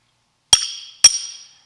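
Two sharp metallic strikes about half a second apart, each ringing out briefly afterward, close and clear with no talking.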